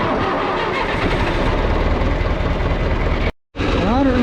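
A grain cart tractor's engine cranks and catches, then runs with a dense, loud mechanical roar before cutting out briefly and resuming.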